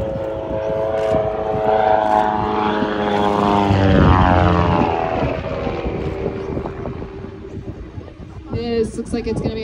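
An aerobatic propeller airplane performs a barrel roll at an air show in Monroe, North Carolina. The engine drone swells and sweeps in pitch as it passes overhead, then fades, with voices heard at times.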